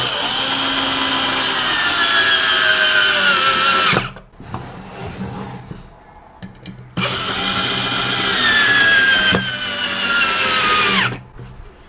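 A power screwdriver drives screws to join pieces of wood in two long bursts of motor whine separated by a short pause, the pitch climbing as each screw bites, loud and close.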